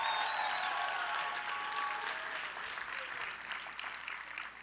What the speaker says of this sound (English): Give them one more big round of applause.